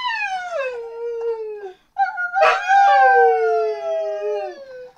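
A dog howls along to a song of happy birthday in long, sliding, siren-like tones, loud and close, in two extended howls with a short pause and a sharp yip between them.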